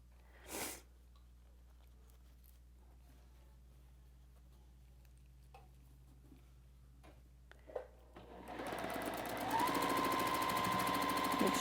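After a long quiet stretch with a few faint clicks and handling sounds, a sewing machine starts up stitching quilt seams, a close, rapid mechanical whir with a fast ticking rhythm that carries to the end.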